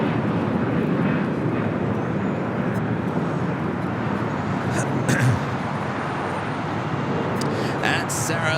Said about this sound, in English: This arrival is Spirit Airlines 267 coming in from Philly on the A320.